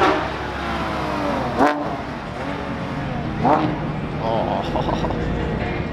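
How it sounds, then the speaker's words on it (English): A Porsche revving at a drift event, its loud engine rising and falling with a couple of sharp bursts amid crowd chatter. "You gotta listen to the Porsche."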